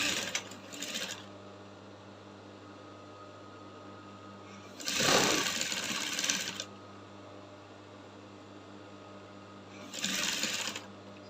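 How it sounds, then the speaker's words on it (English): A sewing machine stitches a corset bra cup in short, close bursts of fast mechanical whirring, with quiet hum between the runs. "So as I'm sewing now"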